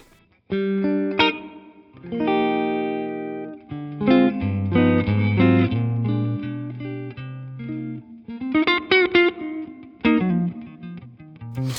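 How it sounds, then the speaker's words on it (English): Electric guitar through a TONE X Dumble-style plugin plays single notes and chords with a bright, fairly clean tone, each phrase ringing out in a reverberant wash, with no talking. "Let's put that reverb back where I had it a minute ago."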